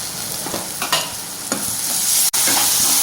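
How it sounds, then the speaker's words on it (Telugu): Ginger garlic paste fries with mushrooms in a pan, giving a dense, even sizzle with a few scraping stirs and one abrupt momentary cutoff near the end. "ఇవన్నీ అల్లం వెల్లుల్లి పేస్ట్ వేస్తున్నాను"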